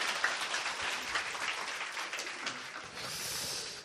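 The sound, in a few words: audience applause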